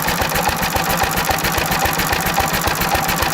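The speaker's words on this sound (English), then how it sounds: "It was actually misfiring because it was so rich." A small engine runs far too rich on pure SeaFoam, a loud, close, steady rapid chugging with an uneven, stumbling misfire rhythm, no talking.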